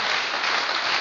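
A church congregation applauding together, a steady dense wash of clapping that fills the whole moment without pause.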